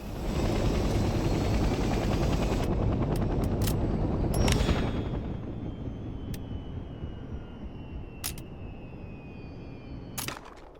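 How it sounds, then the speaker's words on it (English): Transport helicopter in the game Hell Let Loose: Vietnam, a loud steady rotor and engine roar that swells in the first half, then eases to a lower drone, with a few sharp clicks or shots cutting through. "The transport helicopter is used primarily to transport squads quickly across the battlefield."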